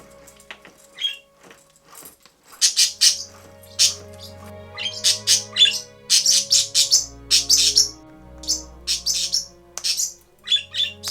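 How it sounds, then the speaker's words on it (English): Pet parrots squawk and chirp indoors in dense, overlapping bursts of shrill calls and tweets, close and loud, with quieter pauses between flurries and no talking. "woke up my parrots and played with them"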